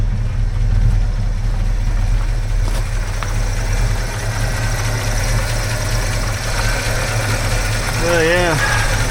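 A 1969 Fastback V8 with a Holley carburetor idles after a cold start without choke, a loud close rumble with a steady, slightly lumpy beat throughout.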